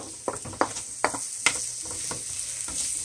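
Onions and garlic sweat in a pan with a soft, even sizzle, cut by four or five close scraping stirs in quick succession, and no voices.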